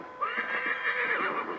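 A horse in Assassin's Creed III lets out one drawn-out whinny, bright and wavering, heard up close with only faint hoof movement underneath.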